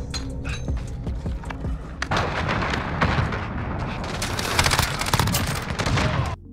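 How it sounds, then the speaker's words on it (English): A cruise missile strike and rapid gunfire in the video game Modern Warfare, loud dense blasts and crackling shots running continuously for several seconds. "I'll cruise missile away."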